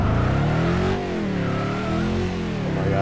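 A police car engine in the video game Turbo Dismount revs loudly and steadily for about three seconds, its pitch rising and falling as the throttle changes. No voices are heard.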